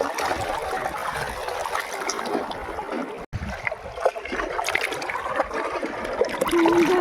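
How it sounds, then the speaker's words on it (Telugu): Waves lapping and splashing along the shore of Cumbum lake, a centuries-old man-made lake among hills in Andhra Pradesh, a steady broadband wash at close range with no voices. "వాటర్ సౌండ్ ఎంత పీస్‌ఫుల్‌గా ఉందో"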